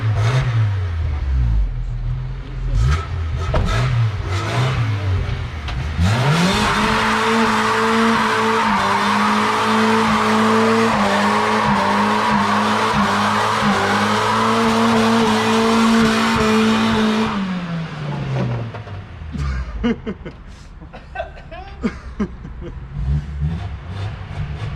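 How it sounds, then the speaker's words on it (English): A Honda Civic with a K20 engine holds a long, loud burnout, its revving engine rising to a steady high note over squealing, skidding tires for about ten seconds before easing off, with voices before and after. "That's good burnout."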